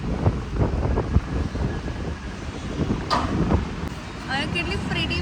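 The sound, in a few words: strong wind blowing into the microphone outdoors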